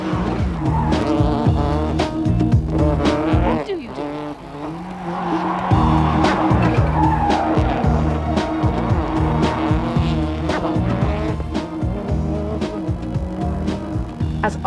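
A Cuisine de France Subaru Ireland Impreza rally car on a familiarisation run at Punchestown, engine revving hard with repeated tyre squeal and skidding, loud and close, a brief dip in engine note partway through before it roars back.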